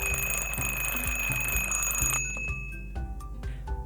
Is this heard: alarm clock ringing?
yes